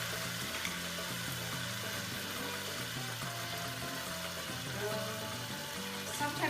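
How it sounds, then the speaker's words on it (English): Lamb curry ingredients fry in hot oil, giving a steady, dense sizzle and crackle that fills the whole stretch, close and fairly loud, with small bubbling pops and faint clatter. "so it's sizzling away"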